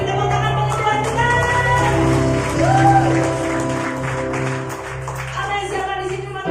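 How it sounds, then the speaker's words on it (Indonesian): A church congregation claps and applauds together during a worship service, a dense, loud wave of clapping sustained throughout, with musical tones and a voice faintly underneath. "Sekali lagi beri tepuk tangan bagi Tuhan kita."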